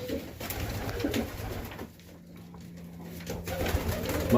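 Serbian Highflyer pigeons in a loft during winter in Melbourne, Australia, giving soft, low cooing calls that come and go against steady background noise.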